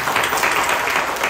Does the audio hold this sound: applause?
yes